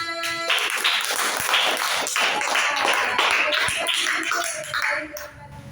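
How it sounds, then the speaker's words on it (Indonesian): A classroom bursts into applause for a student group, lively clapping from many hands filling the room for about five seconds before tapering off, with a few voices mixed in. "Tepuk tangan untuk kelompok 5."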